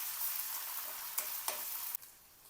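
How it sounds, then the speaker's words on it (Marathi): Garlic and ginger paste with a pinch of asafoetida sautéing in hot oil in a pan for an egg gravy, a steady close sizzle with a few stirring scrapes and a drop in intensity near the end. "लसणाचा पेस्ट, अद्रकचा पेस्ट याला चांगलं परतून घ्यायचं। चांगलं लालसर होईपर्यंत परतायचं।"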